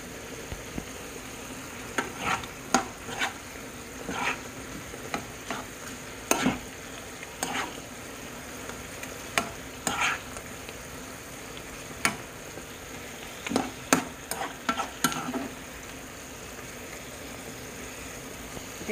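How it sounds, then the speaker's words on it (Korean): Fish cake (eomuk) sizzles in a pan as it is stir-fried with soy sauce, a continuous close crackle broken by repeated scraping stir strokes and utensil clatter at irregular intervals. "자글자글 볶고 있습니다."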